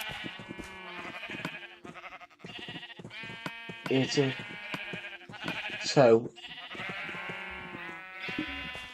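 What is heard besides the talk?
sheep bleating in Minecraft video game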